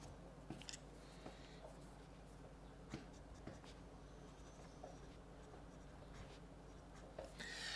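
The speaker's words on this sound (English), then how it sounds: "writing in a brace is not the easiest, so I apologize for my sloppy handwriting there" Ink pen writing on paper while the writer's hand is in a brace, a soft steady scratching with small strokes and taps, faint and close, under a constant low background hum.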